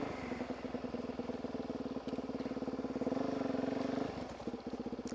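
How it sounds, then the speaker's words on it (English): A supermoto dirt bike engine revs hard and rhythmically during a riding trick, close and pulsing, rising to a sustained higher rev then dropping back to choppy throttle blips. "It's a fun thing with a supermoto, you know, it's still a dirt bike, you know, and you can do shit like this."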